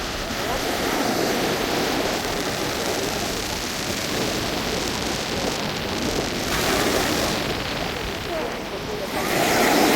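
Sea waves on a clean beach keep up a continuous, loud, close wash of surf that swells and breaks again toward the end, while people speak over it.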